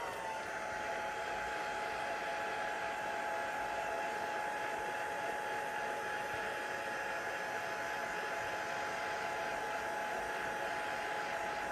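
A heat tool blows steadily while drying distress ink on a stamped card, giving a continuous even whirring hiss with a faint tonal whine, close and unbroken throughout.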